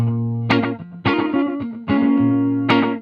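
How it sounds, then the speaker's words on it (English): A distorted electric guitar plays a few chords and single notes through a Flashback delay pedal set to about 130 ms slapback, each attack followed closely by a quick echo repeat. "it's a good slap echo"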